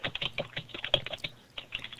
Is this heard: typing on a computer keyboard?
yes